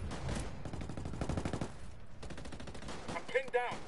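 Rapid gunfire from the Ghost Recon video game rattles in dense automatic bursts, then breaks off briefly before more shots and sharp impacts follow.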